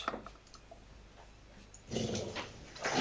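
A dog growls low and whimpers in short, soft bursts, fairly close, with a louder rumbling growl near the end and no talking.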